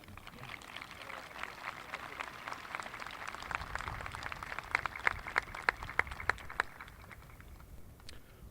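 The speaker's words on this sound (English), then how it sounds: "we request that the audience respond with polite applause and to remain in their seats" Polite audience applause at a 2021 Grayslake Central high school graduation ceremony, a faint, distant patter of scattered clapping that swells slightly with a few sharper claps, heard in a large hall with some background voice.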